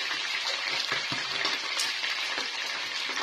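Big slices of onion hit browning veal pieces in a hot pan, setting off a steady, close crackling sizzle that runs the whole time with a few sharper pops and no voices.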